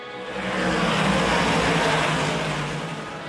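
Race cars roar around an oval track in a steady, broad engine wash that swells through the middle and eases slightly at the end, with no talk over it.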